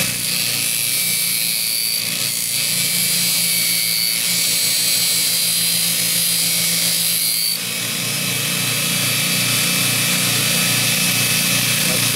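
Belt grinder sanding a damaged fuller on a blade, a steady loud whine and hiss running continuously for the whole stretch, dipping briefly near the middle as the work shifts, with no talking.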